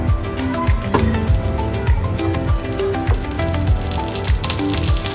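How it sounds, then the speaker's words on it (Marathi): Cumin seeds sizzle and crackle in hot ghee in a kadhai, a steady close frying hiss with scattered small pops and occasional utensil knocks. "तूप पण गरम झालेलं आहे. त्यामध्ये आता थोडा जिरा टाकायचा."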